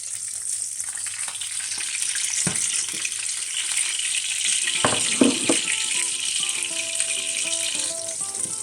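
A duck breast sizzles in a pan with its rendered fat, a steady bright crackle with occasional pops and utensil clinks close by, heard alone without talk.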